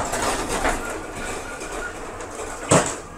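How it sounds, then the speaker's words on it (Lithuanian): A passenger train travelling toward the Latvian and Lithuanian seaside rumbles steadily along the rails from inside the carriage, with a sharp clunk near the end as the car jolts. "traukinį šiek tiek užmetė"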